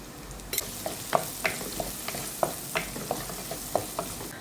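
Coconut pieces fry in a pan with turmeric and salt for a breadfruit curry, giving a continuous close sizzle punctuated by regular light spoon taps and scrapes against the pan. No voices are heard.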